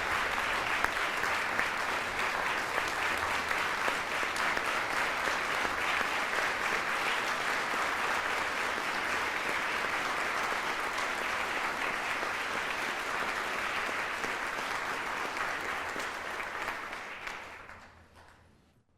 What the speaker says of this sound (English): let's give a last round of applause for all of our award winners